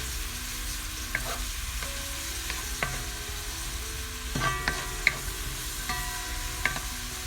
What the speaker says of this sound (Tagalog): Lutuin ko muna ito ng mga ilang minuto guys ang onion.